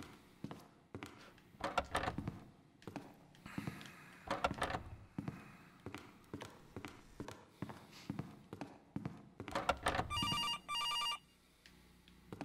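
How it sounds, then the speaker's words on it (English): A telephone rings in a horror video game, ringing in repeated bursts among footsteps and other clunks, with a brighter electronic ring sounding near the end. "Okay, let's just answer this phone now."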